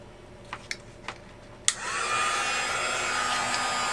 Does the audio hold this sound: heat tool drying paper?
yes